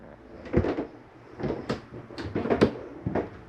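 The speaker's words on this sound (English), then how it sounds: "Got shower doors that are glass, so you want to have them snap open for travel." Glass shower doors in a 2022 Jayco Eagle 335RDOK RV snapping and clacking into place, a series of sharp knocks and rattles spaced irregularly, close and fairly loud with no talk.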